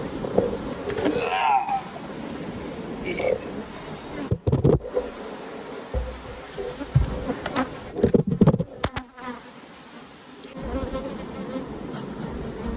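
Honey bees hum and buzz steadily up close in an opened hive box, with occasional sharp knocks and scraping sounds breaking through the drone.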